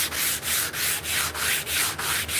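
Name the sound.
sanding a wooden cane with sandpaper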